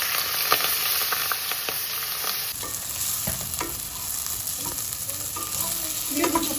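Washed bulgur toasting in butter in a pan, a steady sizzle with scraping stir strokes throughout, close and fairly loud, no voices.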